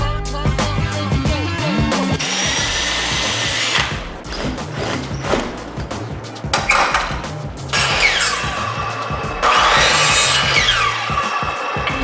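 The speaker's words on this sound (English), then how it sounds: "The bottom horizontal boards are the only ones out of the four arms that get holes drilled into the bottom of them." A power drill bores pilot holes into the bottom of horizontal wooden boards for a gliding chair and ottoman set, in repeated whirring bursts mixed with other workshop clatter and scraping.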